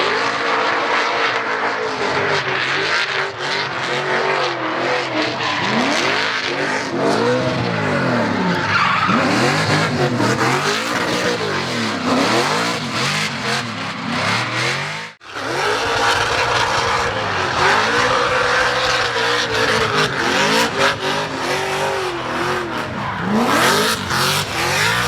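A drift car runs laps at a drift series round, its engine revving hard and tires skidding and squealing continuously and loudly throughout, with a brief drop in sound midway.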